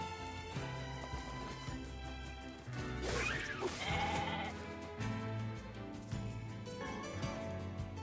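Sheep bleating in the video game Nier Replicant, several wavering bleats over a steady game music background, with a louder, sharper bleat near the middle and softer calls later.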